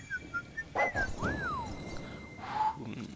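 A character in Fable III whistles at a market vendor, a few short rising and falling whistle notes over faint game ambience, fairly quiet and alone.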